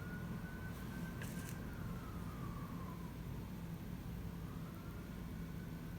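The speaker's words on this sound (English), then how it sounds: "I don't know if you can hear the ambulance in the background." Ambulance siren from a nearby ambulance training facility, faint and distant, its wailing tone rising and falling under steady background noise in a quiet indoor sewing room.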